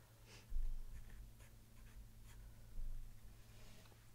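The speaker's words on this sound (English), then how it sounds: "So I'm gonna go ahead and write that down." Pen or pencil scratching on paper while a measurement is jotted down during a sewing project, quiet and close with a few short stroke bursts over a steady low hum.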